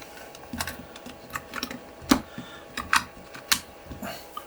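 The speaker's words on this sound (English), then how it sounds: "So we're just going to put a talking book tape in," Cassette tape being loaded into a Panasonic RQ-SX10 portable cassette player, giving a series of close, sharp plastic clicks and rattles spread irregularly over a few seconds, with no talking.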